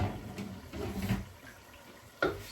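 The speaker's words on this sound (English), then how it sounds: "I'm getting more water to add water to it." Water splashes and pours in a kitchen while stew is being cooked, a few soft bursts of liquid sound with quieter gaps, faint and unaccompanied by talk.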